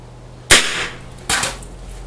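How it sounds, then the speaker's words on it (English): Two sharp cracks from a .45 six-gun revolver firing wax bullets outdoors, spaced under a second apart, each with a short decaying tail. "shooting wax bullets is a lot of fun"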